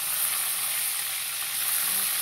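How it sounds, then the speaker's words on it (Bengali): Bay leaf sizzling in hot oil left from frying prawns, a soft, even hiss that holds steady and close for a couple of seconds, with no voices. "মাছ ভাজা তেলের মধ্যে তেজপাতা"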